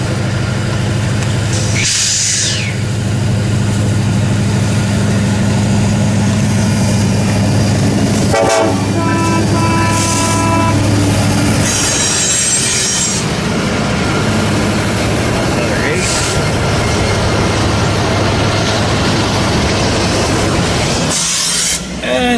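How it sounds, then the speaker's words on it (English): A westbound BNSF empty coal train rolls past loudly in Ashland, Nebraska, a continuous heavy rumble and clatter of rail cars, with horn toots early on. "Another westbound empty coal drag here in Ashland, Nebraska"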